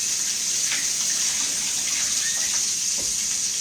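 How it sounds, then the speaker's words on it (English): A kitchen tap runs steadily while fingers are rinsed under it, a fairly quiet, even hiss with small splashes, and nobody talks. "let me rinse my fingers off."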